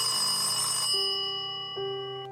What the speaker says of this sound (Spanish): el teléfono replicó adentro